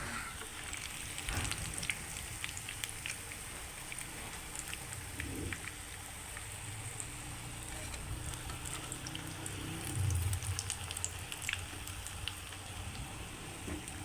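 Aloo tikki potato patties fry in shallow oil, a soft, steady, rain-like hiss of sizzling with faint scattered crackles, continuous and fairly quiet throughout.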